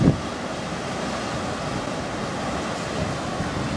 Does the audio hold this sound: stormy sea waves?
yes